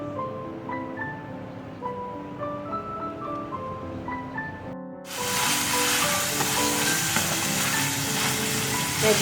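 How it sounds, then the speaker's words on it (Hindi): Vegetable stuffing fries in a little oil in a pan, a loud, dense, continuous sizzle that starts abruptly after a stretch of soft background music and holds steady to the end. "वेजिटेबल सब फ्राई हो रही है"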